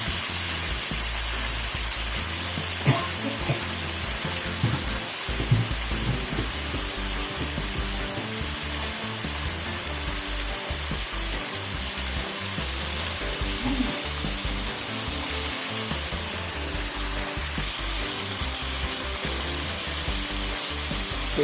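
Food frying in a pot for Guyanese-style cook-up rice, a steady close sizzle running the whole time with a few scattered clicks and stirs and no talking.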